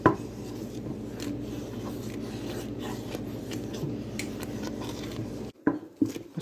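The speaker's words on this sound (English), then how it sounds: "I had to get my wooden spoon. A scraping sound." A wooden spoon scrapes and stirs along the bottom of a pot of thick corn porridge in a steady, close scraping rhythm, then stops near the end with a couple of brief knocks.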